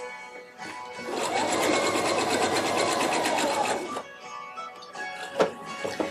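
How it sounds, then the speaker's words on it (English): A serger overlocks the fabric edges of a Victorian evening dress in one fast, buzzing run of about three seconds, close and loud, followed by a few light clicks and handling sounds. "I might just go over these edges real quick anyway"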